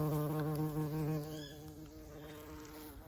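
A honeybee carrying pollen on its pollen baskets buzzes up close in a UK garden in December, a steady droning hum that fades slightly as it moves off.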